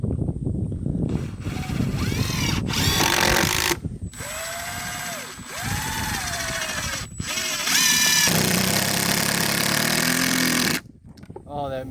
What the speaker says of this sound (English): that Milwaukee makes some good noise